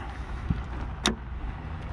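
A CCS to Type 2 charging adapter is plugged into an electric car, giving a soft thud and then one sharp click over quiet background hum.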